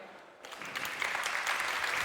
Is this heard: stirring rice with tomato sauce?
no